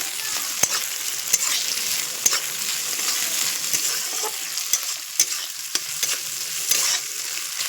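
Ginger and spices frying in a pan, a loud continuous hiss of oil with sharp, scattered clicks and taps from a spoon stirring throughout.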